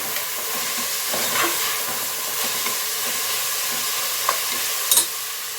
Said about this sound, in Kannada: ಸ್ವಲ್ಪ ಕಾಳೆಲ್ಲ ಫ್ರೈ ಆಗಲಿ ಒಂದು ಸ್ವಲ್ಪ ಎಣ್ಣೆಯಲ್ಲಿ.